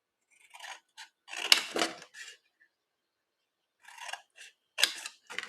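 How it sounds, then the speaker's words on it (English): Scissors snipping through gift box paper along score lines, close and crisp, in a few short bursts of quick cuts separated by a quiet pause. "So now what we're going to do is we're just going to cut up the score lines."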